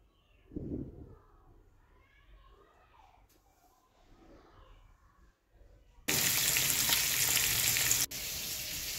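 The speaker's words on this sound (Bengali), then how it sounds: "তো কাতলা মাছটা এখানে ভাজা হচ্ছে" Katla fish frying in a pan gives a loud, steady sizzle that cuts in abruptly after a few seconds of quiet kitchen sounds and continues to the end.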